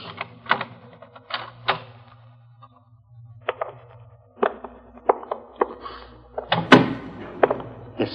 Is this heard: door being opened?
yes